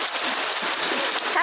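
Heavy rain pours steadily and close by, a dense even patter soaking people outdoors, with a brief voice near the very end.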